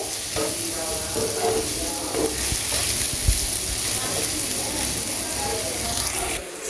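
Boiled noodles stir-fried in a hot pan for a home-style viral noodle recipe, giving a steady broadband sizzle with scraping and stirring clatter throughout, close and fairly loud, with no talk over it.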